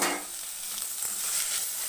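Chopped onion, tomato and garlic frying in a pan with drumstick leaves for a soup, a steady close sizzle with light stirring scrapes, no talking.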